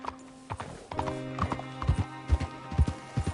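A horse's hooves clip-clop at a quickening gallop in the video game Red Dead Redemption 2, rhythmic and fairly close, with a brief snort or whinny early and no speech.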